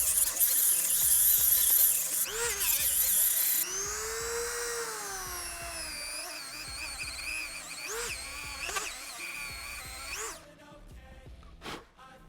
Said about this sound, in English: we're gonna take the Dremel tool with a sanding wheel and just blend that in